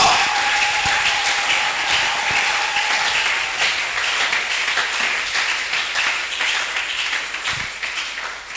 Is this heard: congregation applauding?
yes